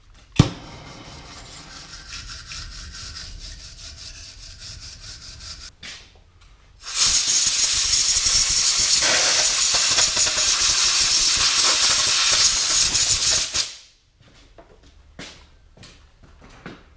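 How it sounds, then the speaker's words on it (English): On a Ducati ST, bolt threads are cleaned with heat and compressed air: a softer steady hiss first, then a loud, harsh blast of air lasting several seconds that cuts off abruptly, followed by faint clicks. "a little bit of heat and a bit of compressed air"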